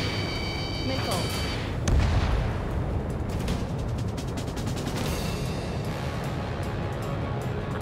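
Anti-air fire in the video game Ace Combat 7, a steady dense roar of flak and gunfire with a heavier boom near the start, continuous and loud throughout.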